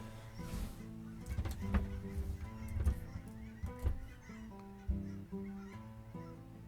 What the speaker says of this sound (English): There are geese flying overhead.